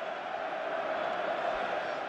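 A sellout crowd of 74,000 fills the stadium at Cardiff for the 2005 League Cup Final between Chelsea and Liverpool, a dense, steady roar of massed voices with no distinct peaks.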